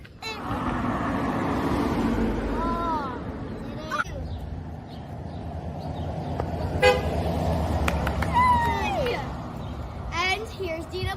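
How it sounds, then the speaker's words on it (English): Cars honk their horns at a roadside morning gathering outside a cookie shop, several short toots rising over steady traffic rumble while people talk and cheer nearby. "we're gonna get cars to honk"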